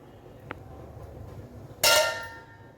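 A metal lid is set onto a cooking pot with one sharp clang that rings briefly. A small tap comes earlier against a quiet background.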